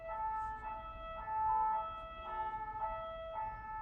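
A fire engine siren wails with a steady tone that swells and fades in a few slow rises, heard from some distance beneath low street rumble.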